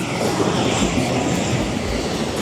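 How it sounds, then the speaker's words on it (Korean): Propeller airplane engines droning at a small island airport in Coron, Palawan, a loud, continuous roar with slow rising and falling pulses, nearby and without any talking. "다 프로펠러 비행기만밖에 없어"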